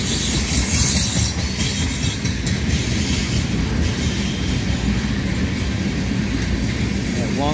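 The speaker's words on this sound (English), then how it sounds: "Long line of tankers." A long CN freight train of ethanol tank cars, led by an EMD SD70M-2 locomotive, rumbles steadily past at close range, wheels clattering on the rails with a faint high squeal at times, continuous and loud throughout.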